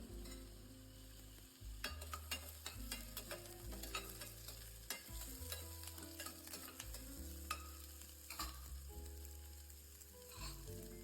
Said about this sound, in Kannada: ಈರುಳ್ಳಿ ಉದ್ದುದಕ್ಕೆ ಕಟ್ ಮಾಡ್ಕೊಂಡಿದ್ದೀನಿ, ಅದನ್ನು ಹಾಕ್ತೀನಿ.